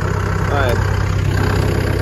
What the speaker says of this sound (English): Good enough tractor, it's just maybe the battery's not the best at helping it start